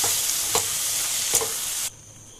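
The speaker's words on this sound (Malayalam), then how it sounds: "ഇനി ഇതിലേക്ക് നമുക്ക് ഒരു രണ്ട് ടേബിൾ സ്പൂൺ വിനാഗിരിയും കൂടെ ഒഴിച്ചു കൊടുക്കാം ഒന്ന് മിക്സ് ചെയ്ത ശേഷം നമുക്ക് സ്റ്റൗ ഓഫ് ചെയ്യാം" Lemon and date pickle with vinegar bubbles loudly in a pan on the stove, with two soft stirring scrapes over a steady sizzle that cuts off abruptly near the end.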